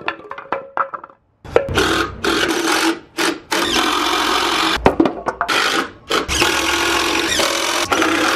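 Continuous rasping strokes of a hand saw cutting through wooden workbench legs, loud and close, with brief pauses and a few clicks between bursts.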